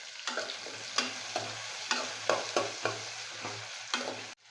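Chopped tomato and curry leaves sautéing in a pan for a Chettinad tamarind curry, gentle sizzling with a low hum beneath and a regular series of spatula scrapes against the pan.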